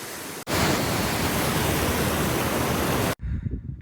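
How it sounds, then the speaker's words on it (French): A waterfall on the island of Sørøya in Norway roars as a loud, dense, unbroken rush of falling water close by. The rush cuts in abruptly and stops just as suddenly, with no voices. "Il y a une cascade."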